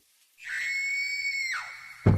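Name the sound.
woman's terrified scream, horror story sound effect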